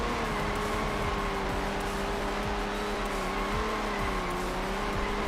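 A rally car with its exhaust knocked off drones loudly and continuously in Rally Fusion, the raw engine note rising and falling through gear changes with no pauses.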